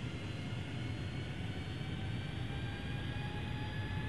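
A Boeing airliner's engines in Flight Simulator X throttling up: a steady, broad jet roar with a rising whine, fairly quiet and unbroken, with no voices.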